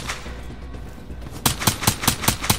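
Gunfire in Call of Duty: Black Ops 3 campaign mode: after a stretch of low background rumble, a rapid series of sharp, loud shots rings out in an even rhythm, about eight in quick succession.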